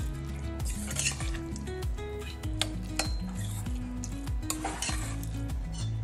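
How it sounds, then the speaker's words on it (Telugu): Cooked katte pongali gets stirred with its mixed-in ingredients in a metal pot, the spoon scraping and clinking in busy repeated strokes close by for several seconds. "బాగా కలుపుకొని"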